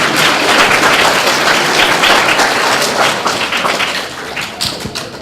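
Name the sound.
audience applause for the school principal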